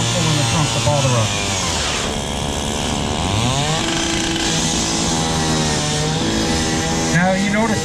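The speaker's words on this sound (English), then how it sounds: "we cut the hood to open it up to get water on the engine" A firefighter's power saw, likely a chainsaw, cuts open the hood of a burning car at a fire department open house demonstration in Dix Hills, New York, running loud and continuous with rising and falling pitch as it bites into the metal, with voices talking over it.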